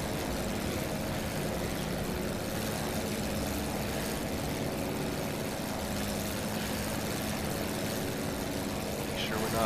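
A WWI plane's engine droning in the Wings Over Flanders Fields flight game, a steady, even propeller hum that holds constant the whole time, with faint talk underneath.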